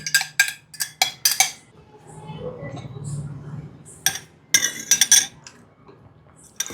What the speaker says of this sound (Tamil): கொஞ்சோண்டு ஏலக்காய் தூளை எடுத்து தயிரில் போட்டு நல்லா ஒரு மிக்ஸ் பண்ணி